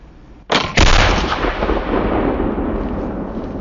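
A flintlock musket fires at a wild turkey gobbler in the Pennsylvania woods: a faint pan flash, then the loud main charge a split second later, booming and rolling away into a long echo, with no voices.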